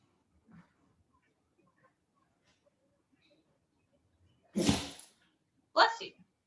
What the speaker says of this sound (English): That was Delilah. That was the dog.